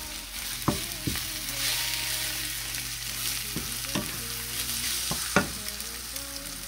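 Nopalitos sizzle and fry in a pan over a high open flame, a steady broad hiss with several sharp clacks of a utensil stirring and scraping the pan.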